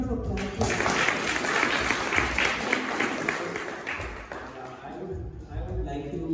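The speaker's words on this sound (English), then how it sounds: "So give a big round of applause for him." An audience at a school annual day event applauds, a broad continuous wash of clapping that swells and holds, with a voice talking over parts of it before it tapers.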